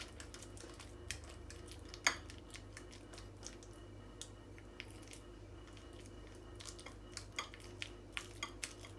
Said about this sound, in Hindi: इसे भी हमने अच्छे तरीके से मिक्स कर लेना है